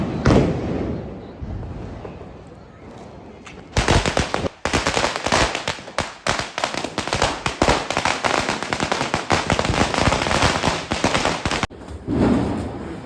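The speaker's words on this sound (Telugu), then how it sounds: "క్రాకర్స్ కాల్ చేసాం" A long, dense barrage of Diwali firecrackers crackling and popping rapidly for several seconds, loud and close, with quieter pauses before and after.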